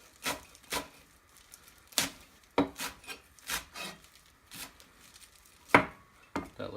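A knife chops through cilantro on a cutting board in irregular, crisp strokes, each cut sharp and close with quiet pauses between.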